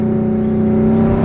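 V6 Ford Mustang fitted with a Spectre cold air intake and no tune, heard from inside the car: a loud, steady engine drone with a strong low hum held evenly throughout.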